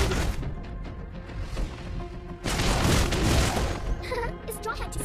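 A turret is destroyed in a Mobile Legends match, producing a heavy booming blast with crashing debris that swells midway and then tapers off under game music and speech.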